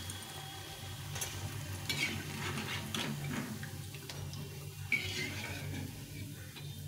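Potato pakoras frying in hot oil, a steady close sizzle with soft bubbling and occasional light ticks and stirring clinks, with no voices.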